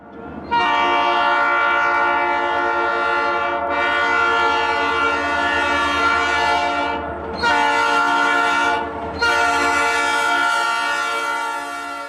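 A loud train whistle blows in long sustained blasts with brief breaks between them, rich and harmonic, close by, with no talking.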